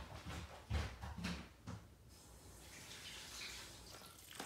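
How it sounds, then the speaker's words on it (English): Hot water is poured into a bag to make a prison burrito, a soft close trickle and slosh running steadily for several seconds with some bumps of handling early on. "Add the hot water to the bag."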